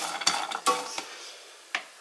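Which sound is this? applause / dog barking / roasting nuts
roasting nuts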